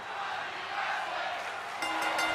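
A wrestling arena crowd in WWE 2K23 roars and cheers in a continuous, dense wash of noise, with a slight surge toward the end.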